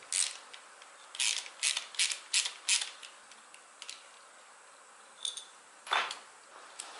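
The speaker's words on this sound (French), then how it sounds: "Défaire la vis au-dessus là qui bride l'axe." Bursts of ratchet clicking as a bolt is undone on the clutch of a Kawasaki ZX10R motorcycle, several quick clusters of sharp ticks near the tool, separated by short pauses and a couple of isolated clicks, with no talk.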